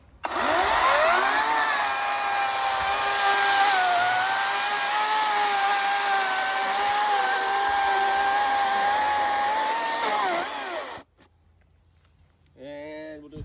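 An Ego CS1800e 45cm electric chainsaw whines loudly and steadily for about ten seconds as it cuts through timber, its tone sagging under load before stopping abruptly, followed by a brief spoken voice.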